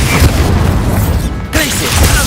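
Bombarda explosion spell going off in Hogwarts Legacy, a loud booming blast over dense, continuous game noise, with voices talking on top of it.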